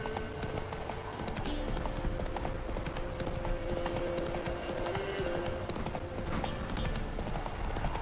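Roach, the horse in the video game The Witcher 3, gallops with steady, rapid clip-clop hoofbeats over a low musical score, with a short neigh or faint voice in the background.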